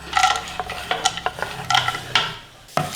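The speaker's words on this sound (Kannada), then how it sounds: "ಫಸ್ಟು ತುಪ್ಪದಲ್ಲಿ ಗೋಡಂಬಿನ ಹುರ್ಕೊಳ್ಳೋಣ." Cashews frying in ghee in a kadai, with a spoon clinking and scraping against the metal pan in quick irregular strokes over a light sizzle, close and fairly loud, no speech.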